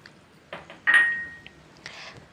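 A lid set on a pot of brinjal curry, a couple of light metallic clinks and one ringing clang with a brief fading ping, close and quiet with no voices.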